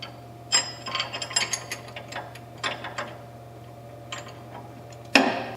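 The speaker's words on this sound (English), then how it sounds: "And install the lock nut." A ratchet wrench clicks in quick bursts while tightening a lock nut on the seat latch of a Cub Cadet PRO Z zero-turn mower, with close, crisp pawl ticks, several pauses and a louder clatter near the end.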